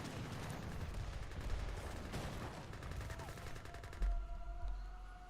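Rapid, dense gunfire from Gatling camels in the real-time strategy game Age of Empires 3 Definitive Edition, a steady crackling fusillade filling the battle soundscape, with a couple of heavier thumps near the end.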